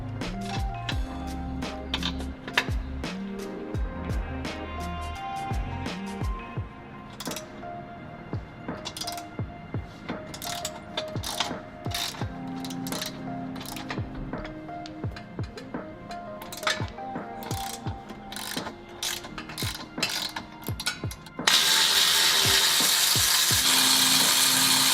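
Ratchet loosening bolts on Subaru WRX VB chassis bracing gives sharp, close metallic clicks and clinks in irregular bursts, ending in a steady broadband hiss.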